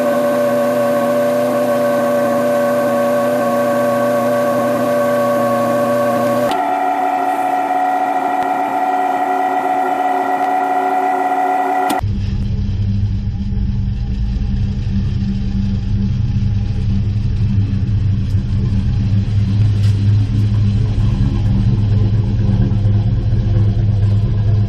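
A 1979 Ford F100 engine, fresh from a steering gear replacement, is cranked into life and then keeps running with a steady, loud low rumble for a long stretch, with no voices.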